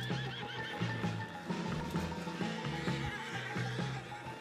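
A horse whinnies repeatedly in Red Dead Redemption 2, with hooves clip-clopping beneath, fairly quiet and continuous over a few seconds of game sound.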